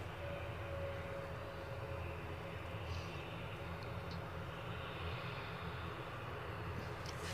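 Air France Airbus A220-300 airliner at Edinburgh airport, a steady, distant engine roar and broad rushing drone that holds evenly throughout.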